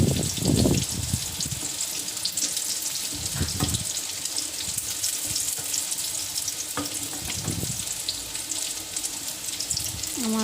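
Fish roe fritters fry in hot oil in a pan with a steady crackling sizzle, broken by a few scraping stirs and clinks, close and moderately loud, with no speech.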